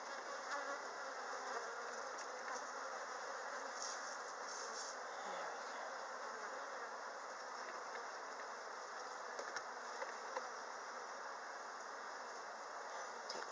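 Honey bees swarm and buzz around an opened hive during a spring inspection, a dense, steady, close drone that fills the whole stretch without pause.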